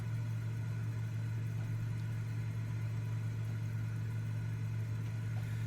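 A Cessna 206 piston engine in Microsoft Flight Simulator 2024 hums steadily in warm conditions, a constant low drone without noticeable change in pitch.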